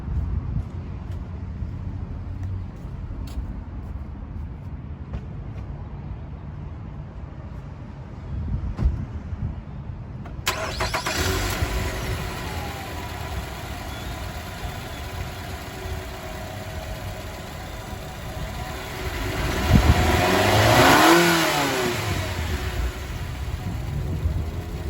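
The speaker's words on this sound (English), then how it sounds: "we're gonna go ahead and do a engine start and a little rev" Car engine fitted with an aFe Takeda Stage-2 cold air intake: quiet idle-like rumble at first, then the engine fires up loud and steady, with a rising rev swell near the end before it settles.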